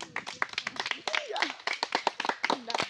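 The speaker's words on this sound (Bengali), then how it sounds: "সবাই হাততালি" Children clapping their hands at a toy mystery box opening, giving quick, uneven bursts of close claps mixed with overlapping voices talking throughout.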